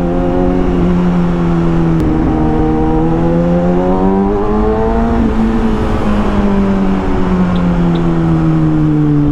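Kawasaki Ninja ZX-6R motorcycle engine pulling steadily under acceleration while riding, a loud continuous tone that rises and dips in pitch across the run, with no one speaking.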